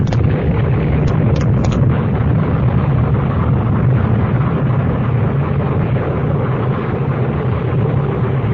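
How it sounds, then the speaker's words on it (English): A dense, continuous roaring rumble fills the scene as an explosion sound effect in an old radio mystery drama, loud and unbroken throughout, with faint crackles early on. "Had the professor come by earlier and set up the explosion?"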